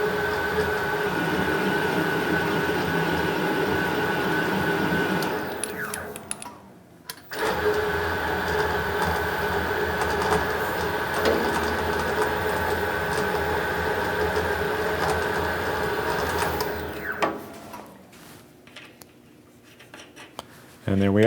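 A lathe with an electronic leadscrew cuts a metric thread, a steady mechanical whir with gear-like hum running continuously, briefly stopping near the middle and again toward the end as the cut is backed off.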